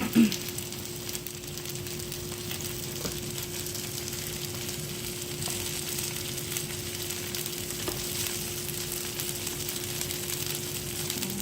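Loaded potato cakes fry in a pan with a steady, moderate sizzle and crackle that runs evenly throughout, with one brief louder pop near the start and no talking.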